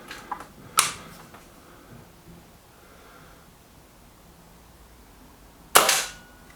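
Two sharp, close air rifle shots from a Kral Puncher NP500, one near the start and another after a long quiet pause, each a crisp crack with a short tail.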